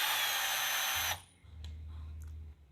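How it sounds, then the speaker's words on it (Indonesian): A faulty cordless battery drill whose motor spins while the chuck stays still, a loud high whine running for about a second before cutting off, followed by a low motor hum and a few small clicks. "dia berputar mesinnya, tapi kepalanya dia nggak mau muter"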